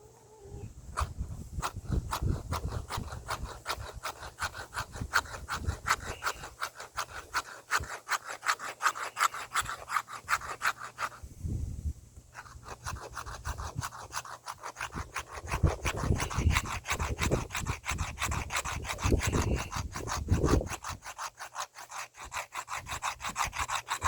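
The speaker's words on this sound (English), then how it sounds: "See if I could get some scraping done with it" Knife blade from an ice age style hunting kit scraping along wood, rapid rhythmic rasping strokes repeated close up for over twenty seconds with one brief pause midway, moderately quiet and without talk.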